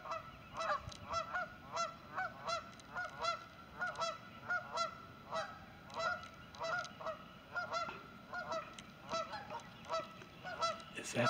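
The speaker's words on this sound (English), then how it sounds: "now I've got these geese over here I'm sneaking up on" A flock of Canada geese honks steadily and repeatedly at moderate distance outdoors, calls overlapping in a continuous rhythmic chorus with no talking.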